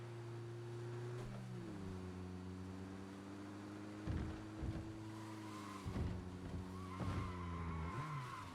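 A car drifting in Cyberpunk, with a steady engine drone shifting pitch as it changes gears, then repeated sharp tire squeals and skids in bursts as the car slides, loud and close, with no voices.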